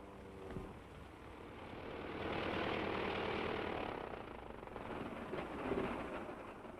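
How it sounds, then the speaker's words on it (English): A propeller plane with engine trouble drones overhead, a steady broad engine roar that swells and fades slightly as it passes, with no voices. "That's Mr. Lockwood's plane."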